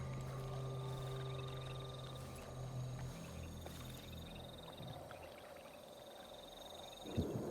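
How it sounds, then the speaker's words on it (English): Frogs croak in a steady, low chorus of pulsing calls in a shallow watery area in the game Dishonored 2, faint and ambient, with no speech. "Are you hearing the frogs?"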